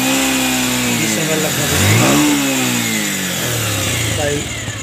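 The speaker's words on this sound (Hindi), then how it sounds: "तो ठीक है दोस्तों, बाइक चालू हो चुकी है, देखिए" A motorcycle engine running after a kick start, idling with a rising and falling rev near the middle, close and steady, with someone talking over it.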